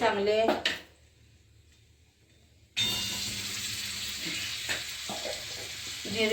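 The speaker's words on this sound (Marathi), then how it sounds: "चांगले फ्राय होऊ द्या. नाहीतर जिरे चांगले नाही ना फ्राय झाले तर कचकच लागतात जिरे" Cumin seeds sizzle in hot oil. A short burst of frying comes first, then a pause, then a louder, steady crackle with occasional clinks of a utensil.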